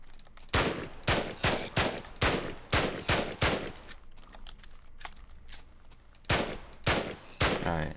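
TT-33 pistol gunfire in Minecraft with the Flan's Mod World War Two pack: a quick series of sharp, evenly spaced shots, then a brief pause and a few more.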